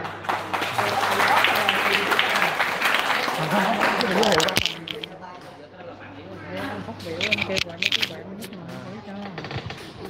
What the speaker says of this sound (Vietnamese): cho một tràng pháo tay lớn lên nữa